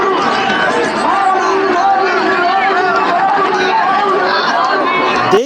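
A dense crowd of Warkari pilgrims at the Pandharpur Wari procession near Pune, with steady babble and chatter filling the whole stretch at an even loudness and nearby voices mixed into the general hubbub.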